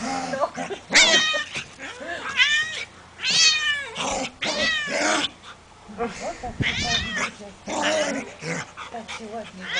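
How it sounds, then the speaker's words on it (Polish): A cat cries loudly indoors in a string of repeated drawn-out meows and yowls, mixed with dog-like sounds, while someone talks over and between the calls. "Kotek też tak krzyczy,"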